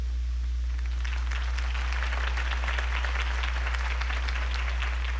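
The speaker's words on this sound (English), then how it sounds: "could have heard that applause" A video game crowd applauds steadily, many hands clapping in a dense, continuous wash over a low steady hum, with no voices.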